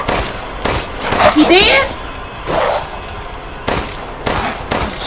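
Gunshots in the survival-horror game Resident Evil Village, a few sharp bursts spread across the moment amid a shouted voice and game noise, with a player talking over them.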